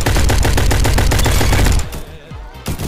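Rapid gunfire bursts in a Roblox shooting match on an Xbox, with loud repeated shots for nearly two seconds before they thin out to a few scattered reports.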